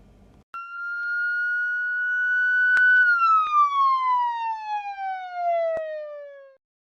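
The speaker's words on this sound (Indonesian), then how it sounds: "bagaimana Anda mendengar sirine ambulans saat melaju ke arah Anda, dan bagaimana suara berubah saat kendaraan lewat dan menjauh." Ambulance siren wailing as the vehicle approaches and passes, its steady tone sliding down in pitch after the pass as it moves away, loud and alone before cutting off.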